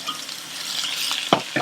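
Potatoes tipped into a pan of frying mushrooms give a steady bright sizzle, with a couple of sharp scraping stirs near the end, close and fairly loud.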